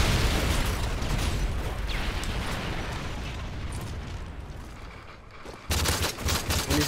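An explosive decoy grenade is fired and goes off in a video game. A long, loud wash of blasts and crackling gunfire-like bursts fades gradually, then a sharp new burst of popping explosions cuts in near the end.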